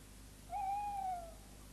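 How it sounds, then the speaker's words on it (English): A single long, wavering tawny owl hoot, pre-recorded and played back, clear and somewhat distant, over a quiet background hiss. "But this hoot is not from a resident owl."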